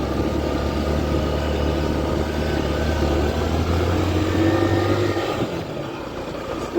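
A small motorcycle labors up a steep hill on a road to waterfalls, its engine droning loud and steady, then easing off near the end.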